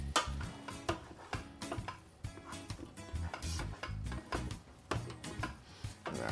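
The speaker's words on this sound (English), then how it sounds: "Now I'm going to give it a stir." Rice and beans stirred in a Ninja Foodi pot produce a rhythmic run of close knocks and scrapes from the spoon against the pot, fairly quiet and continuous.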